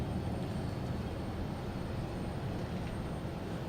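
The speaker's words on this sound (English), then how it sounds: "A220 that was making all the racket here in the alley" Airbus A220 airliner at Boston Logan Airport, a steady broad roar of jet engine noise holding at an even level throughout, heard from a distance with no voices.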